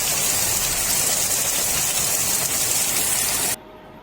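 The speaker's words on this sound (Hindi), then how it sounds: "देखुन केते जोर वर्षा होचे।" Heavy monsoon rain pours down near a balcony and garden, a dense, loud, continuous hiss that cuts off abruptly near the end.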